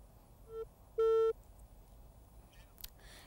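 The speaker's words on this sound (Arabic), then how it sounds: "يبدو أن الاتصال انقطع الآن" A telephone busy signal after a dropped call during a phone-in to a news programme: two clean electronic tones, a short one then a longer louder one, followed by faint clicks and line noise.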